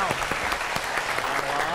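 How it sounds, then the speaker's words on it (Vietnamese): A stage-show audience claps along to a rap song, with fairly loud steady applause and some distinct rhythmic claps standing out, while a voice talks over it. "vỗ tay nào"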